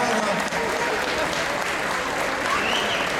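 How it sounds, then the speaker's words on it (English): An audience claps steadily at an outdoor choir lighting ceremony in Lenexa, a dense, even wash of applause that fills all three seconds without letting up. "Let's give a round of applause for Miss Nina, too."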